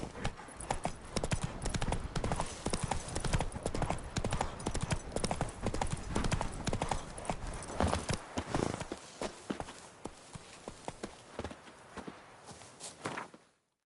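Horse hooves in The Witcher 3 pounding in a fast, continuous galloping clatter, close and steady, with a brief snort, fading out over the last few seconds.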